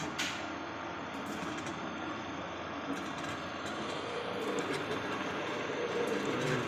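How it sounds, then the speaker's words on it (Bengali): A boring machine used for lathe-style work on a JCB pin bore runs steadily in a workshop, a loud continuous mechanical grind and rumble with faint rattling throughout. "এই যে এটা হচ্ছে বোরিং মেশিন।"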